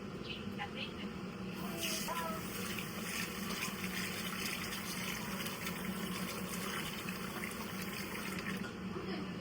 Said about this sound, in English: I find washing rice and lentils very therapeutic